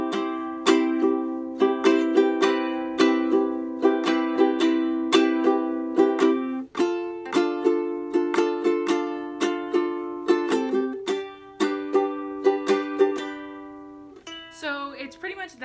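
A ukulele strums the four-chord progression of a song, looping it over and over in a bright, steady rhythm, close and alone without speech.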